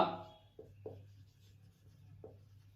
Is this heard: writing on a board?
yes